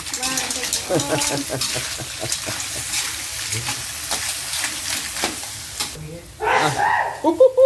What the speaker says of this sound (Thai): ก็ผัดจนหอยสุกนะ